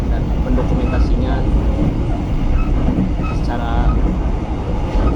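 Economy-class KA Brantas passenger train running between Blitar and Cirebon, a steady loud low rumble of rolling wheels and carriage noise throughout, with a person talking over it.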